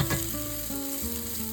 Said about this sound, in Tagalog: We are cooking ginisang kalabasa